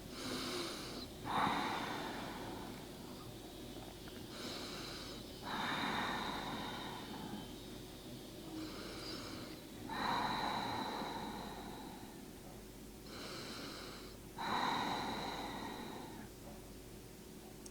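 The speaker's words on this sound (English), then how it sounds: "Taking deep breaths here." Slow deep breaths drawn in and pushed out through the nose during a yoga posture, several long inhale-exhale cycles in a steady rhythm, close and soft, with no talking.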